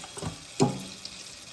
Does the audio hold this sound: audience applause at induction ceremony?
no